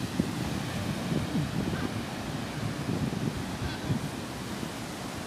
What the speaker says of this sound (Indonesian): kelihatannya laut ini agak-agak dalam ya. Kalau dilihat dari gelombang ombaknya.